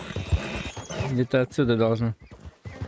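A horse in the Red Dead Redemption 2 video game, struggling to stand, gives a short neigh and shuffling hoof sounds mixed in with someone talking over the game.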